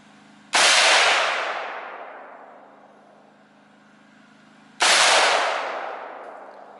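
Two loud AR-15 rifle shots fired at a target outdoors, about four seconds apart, each a sharp crack with a long echoing decay into quiet.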